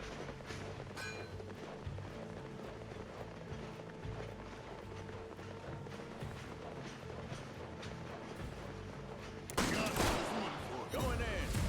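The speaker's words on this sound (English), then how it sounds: "Going in. Guns blazing." Bursts of gunfire from the turn-based tactical game Hard West 2, rapid shots and volleys over a steady game backdrop, growing louder and denser near the end.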